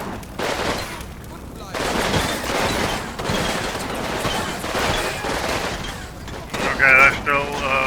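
Battlefield gunfire and falling artillery in the Combat Mission Red Thunder war game, with a Russian assault on a German last-ditch defence: a dense, continuous crackle of shots and blasts, with a sharper burst near the end.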